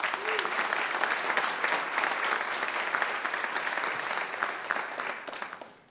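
Sustained audience applause fills a hall during a city's State of the City evening program, loud and steady throughout before tapering off at the end.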